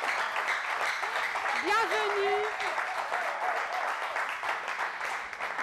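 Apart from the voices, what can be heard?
audience applause for civil servants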